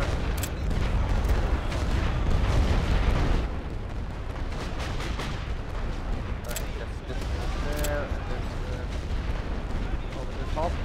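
An artillery barrage in a Great War western front video game near Lille, with dense, overlapping booms and rumbling blasts that roar continuously, heaviest in the first few seconds, and a voice briefly heard beneath the din.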